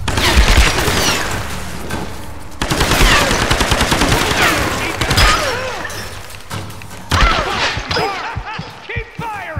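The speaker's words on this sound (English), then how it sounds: "She's shooting at us!" Rapid automatic gunfire in the video game Tomb Raider: Definitive Edition, loud bursts of fast shots with booms and thuds, broken by short pauses, with faint shouting voices mixed in.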